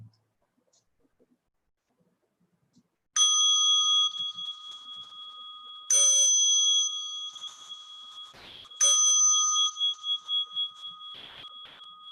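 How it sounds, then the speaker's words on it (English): A meditation bell rings during a guided mindfulness session, struck three times a few seconds apart after a quiet start, each strike a clear, bright, sustained tone that rings on and slowly fades, heard close and alone without talk. "as you listen to the bell"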